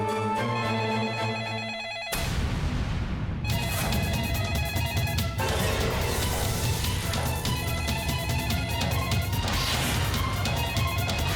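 A telephone rings loudly in a Hindi TV serial scene, its repeated electronic trill continuing over a sudden crash and a thick musical background, with no one speaking.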